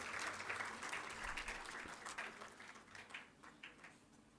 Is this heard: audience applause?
yes